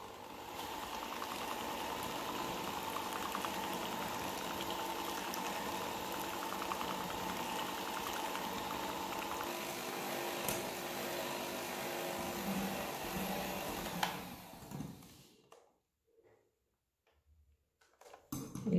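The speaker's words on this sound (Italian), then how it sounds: "a velocità media lavoro con il frullatore per 7-8 minuti" An electric mixer whirs steadily at medium speed whipping cake batter for a Margherita cake, then cuts out, leaving near silence.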